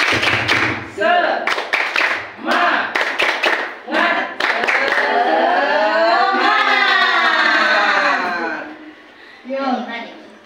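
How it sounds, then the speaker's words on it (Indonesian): A group does rhythmic spirit clapping (tepuk semangat) in an Indonesian training session, with short bursts of claps in counted patterns broken up by loud voices and chanting. "Gimana kalau tepuk semangat dulu biar tidak tegang ya."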